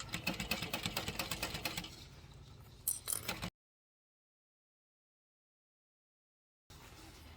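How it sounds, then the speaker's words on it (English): A sewing machine runs a seam at a 4 stitch length around a garment piece, a close, fast, even mechanical buzz for about two seconds, then a few clicks before falling silent; it resumes briefly near the end. "I'm going to go down to a 4 stitch length and we're going to stitch all the way around"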